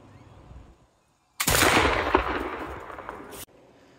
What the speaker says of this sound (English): I'm gonna try to shoot that can of sweet corn down there